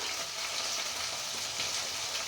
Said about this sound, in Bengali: এবারে এর মধ্যে আমি আলু আর ঢ্যাঁড়সটাকে ভালো করে আগে ভেজে নেব